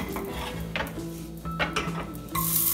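A utensil stirs a mixture into vegan refried black beans in a hot pot, giving close, steady scraping and clinking against the pot over a faint, even background hum.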